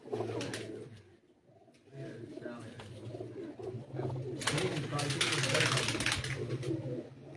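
Champion-breed pigeons on a rooftop coo in low, repeated murmurs, joined by rustling and a burst of fluttering or scratching noise, with people talking nearby.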